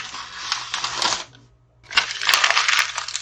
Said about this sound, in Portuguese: O papel amassado é um fenômeno físico, porque quando nós simplesmente amassamos um papel